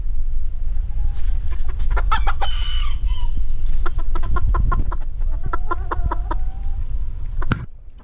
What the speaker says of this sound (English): I raise Old English game bantams